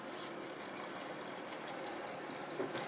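Rinse water pours and gushes steadily from washed basmati rice as it drains, a soft continuous watery rush heard close and alone.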